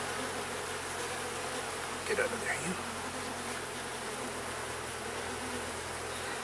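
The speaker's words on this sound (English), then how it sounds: "I got a bee coming up my shorts." Bees buzz steadily around an opened beehive during a hive check, a dense continuous drone close by, with a brief spoken remark partway through.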